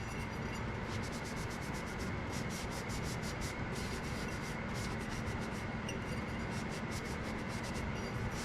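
Brown wax is rubbed and dabbed onto a glass jar with a steady, close, continuous scratchy rubbing and faint rhythmic strokes.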